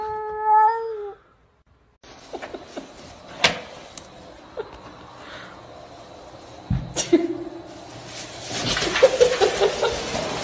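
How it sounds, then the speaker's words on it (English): Two cats fight and caterwaul early in the morning, drawn-out yowls and sudden hisses and scuffles rising and falling in bursts, with a person talking in between. "these cats are beefing at 7 a.m."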